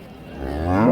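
A Friesian cow with a calf lets out a single loud, close moo that swells upward and ends abruptly, heard at the Ambari cattle market.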